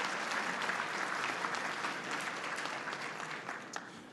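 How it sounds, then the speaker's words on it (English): Luncheon audience at a mayors' winter meeting applauds the second vice president, a steady, dense roll of many hands clapping in a large room, fading slightly toward the end. "Let's give a big, big round of applause to our second Vice President,"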